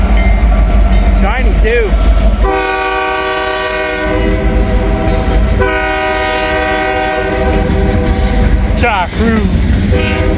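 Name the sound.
SD70ACE diesel locomotive train passing, sounding horn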